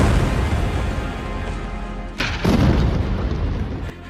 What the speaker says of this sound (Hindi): बेरूत में यह धमाका तब हुआ